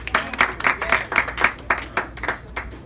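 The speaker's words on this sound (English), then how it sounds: "So as you clap," Audience applause at a speech by a former African Union ambassador to the United States, steady clapping from a crowd rising and falling in bursts across the moment, fairly close and fairly loud.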